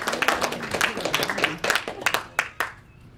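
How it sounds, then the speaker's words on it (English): A small audience at a 2011 presentation on AC-119 Shadow and Stinger gunships in Vietnam claps in a short, uneven round of distinct hand claps that thins out and stops, while a voice talks underneath. "Let's give a round of applause for those guys."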